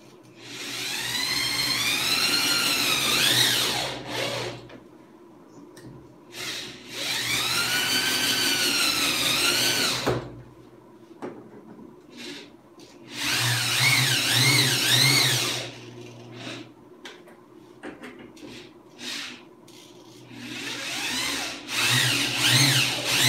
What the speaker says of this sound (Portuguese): Então agora eu posso vir e sair parafusando tudo de uma vez.